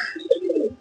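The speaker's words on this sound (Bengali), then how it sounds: "আমার হাতে একটা কবুতর দেখতেছেন, যা মিয়া নাজির ব্লাড লাইনের সালার কবুতর।" A single pigeon of a Mian Nazir bloodline held in the hand gives a short, close, low coo, loud and alone with no talk.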